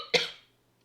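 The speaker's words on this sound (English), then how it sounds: "That's a bad cough." A single harsh, bad cough bursts out close by, then fades into quiet.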